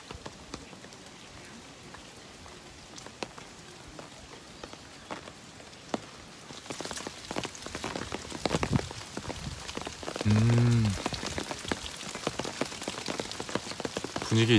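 Steady rain falls on the path to Eongtto waterfall on Jeju, a continuous patter of drops on surfaces that grows denser and louder partway through, with occasional heavier drips close by and no talking.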